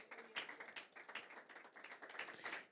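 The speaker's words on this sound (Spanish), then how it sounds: "Den un aplauso al Señor en esta hora" A small church congregation claps in praise, faint and close-sounding, with rapid, slightly uneven hand claps continuing steadily for a few seconds.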